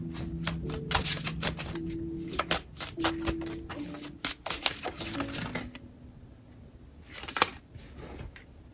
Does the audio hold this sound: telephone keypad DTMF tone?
no